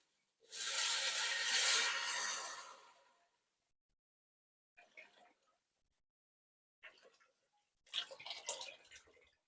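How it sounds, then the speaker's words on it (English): Hot water is poured into a pot of fideo with tomato sauce, a steady splashing pour lasting about two seconds, then a few brief clinks and stirring sounds after a pause. "And now I'm going to add my hot water."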